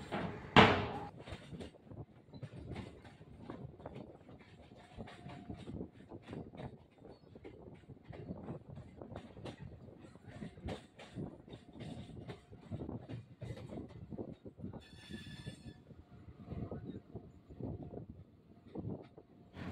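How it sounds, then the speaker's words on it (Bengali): A passenger train pulls into Bardhaman station on the run from Shaktigarh, heard from on board: a loud bang at the start, then a continuous rumbling clatter of wheels and carriages, with a brief high squeal near the end. "এখন ট্রেন ঢুকছে বর্ধমান স্টেশনে।"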